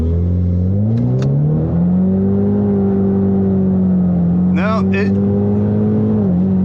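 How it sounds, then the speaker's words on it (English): An EcoBoost Mustang engine held on the brake in second gear and revved for a boost launch, a loud, steady droning rev that climbs and then holds close up, with someone speaking over it. "Put my foot on the brake, bring some RPMs up."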